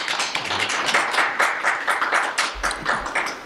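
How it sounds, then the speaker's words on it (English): Scattered clapping from a small crowd at a panel discussion, uneven and brief, with individual claps standing out rather than building into loud applause. "Can we give them a round of applause?"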